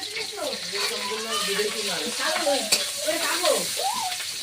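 Onion and green chilli frying in hot oil, a steady close sizzle with stirring, heard under someone speaking throughout.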